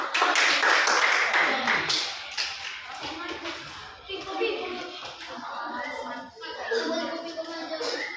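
Students in a classroom clap their hands, sharp patterned claps strongest at first, then thinning out as children's voices chatter and call out over them.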